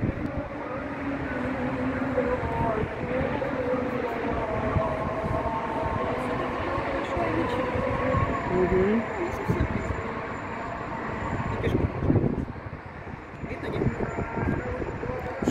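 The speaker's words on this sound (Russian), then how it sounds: "ветер капец" Strong wind buffets the microphone outdoors near a large mosque in the UAE, a loud, steady low roar with gusty surges, swelling hardest around twelve seconds.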